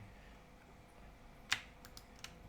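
A few sharp keyboard key presses for Photoshop shortcuts, one distinct click standing out followed by two or three fainter taps against a quiet room hiss.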